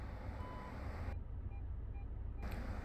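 A steady, faint electronic beeping repeats under a continuous engine and road rumble inside a Volkswagen New CC with about 93,900 km, shifted into reverse.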